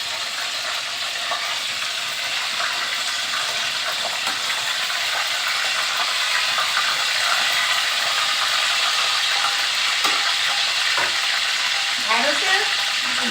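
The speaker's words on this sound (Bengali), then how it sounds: "ঢ্যাঁড়সগুলো আমার মোটামুটি ভাজা হয়ে গেছে।" Okra frying and being stirred in hot oil, a dense, steady sizzle with scraping stir strokes throughout and a few sharper clicks near the end, no talk.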